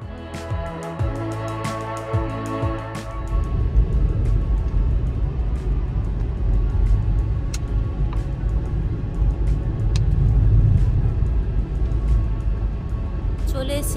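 Hyundai Grand i10 Nios climbing steadily uphill on the road to a monastery near Leh, Ladakh; after a brief tonal opening, a continuous close engine and road rumble fills the cabin, swelling slightly midway.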